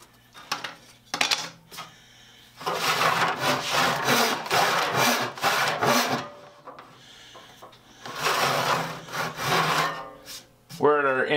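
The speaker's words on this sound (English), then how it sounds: "I'm doing about a third of an inch every time I make a cut. It's actually cutting pretty quickly." Hand saw cutting through wood for a saw till, close rhythmic rasping strokes in two bursts separated by short pauses, with a few light knocks and a brief squeak at the end.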